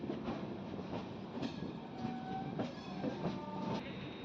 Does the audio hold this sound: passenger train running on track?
yes